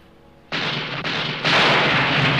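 A rocket blast in a war film battle scene lands as a loud, sudden boom that rolls on in a wide rumble, with a second heavier burst following close behind.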